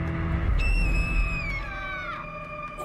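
A high, drawn-out scream rings out in Assassin's Creed Valhalla, sliding downward over game background noise and lasting more than two seconds before breaking off.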